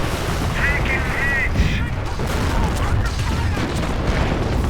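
Calliope rocket artillery barrage in Company of Heroes, a dense rumble of overlapping booms and crackling impacts with whistling rocket streaks early on, loud and continuous across the battlefield.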